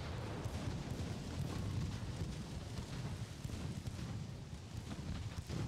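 Naval guns booming in a dreadnought-era warship battle, a dense rumbling roar of distant cannon fire and explosions that continues throughout with no pauses.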